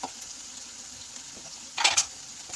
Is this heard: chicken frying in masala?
yes